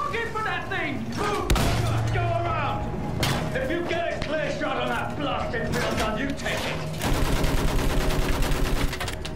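Dense Battlefield 1 combat gunfire with rapid bursts and sharp repeated shots, loud and continuous throughout, mixed with layered battle noise and voices talking over it.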